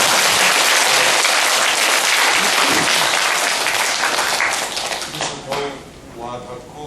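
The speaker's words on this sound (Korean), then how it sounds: "다시 한번 박수 좀 보내라" Indoor audience at a meditation and Seon Buddhism discussion breaks into loud, dense clapping that holds steady, then thins and fades away as a voice begins speaking.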